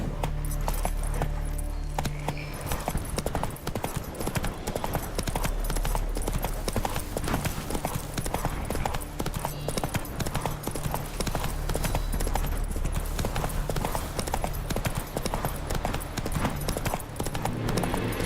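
Horse hooves galloping steadily in The Witcher 3, a continuous rapid clip-clop with faint jangling tack, loud and close throughout, with little else heard over the hoofbeats.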